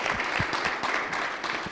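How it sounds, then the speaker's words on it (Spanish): Audience clapping at a UNAM academic event in a hall, a steady dense wash of applause throughout with no talking. "también un fuerte aplauso, por favor."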